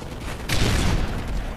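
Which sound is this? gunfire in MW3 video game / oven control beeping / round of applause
gunfire in MW3 video game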